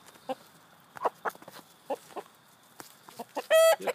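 A rooster clucks in short separate bursts, several soft clucks spread over a few seconds, ending in one louder, sharper squawk at close range; no talking.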